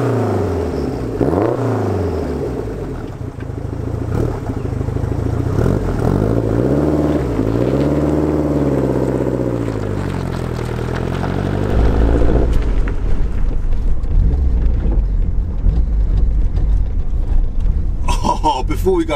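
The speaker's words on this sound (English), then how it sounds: "get it in first gear, we'll get moving" Lotus Esprit Turbo pulling away in first gear on a private road: the engine note climbs through several rising revs, then settles into a steady droning rumble, close and fairly loud, with no talking.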